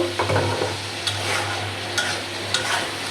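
Brinjal masala is stirred and sautéed in a pan, with a soft steady sizzle under a few distinct scraping strokes of the spoon against the pan, close and without talk.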